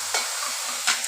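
Bottle gourd curry with salt, turmeric and sugar is stirred in a pan, giving two distinct scraping strokes over a faint, soft sizzle.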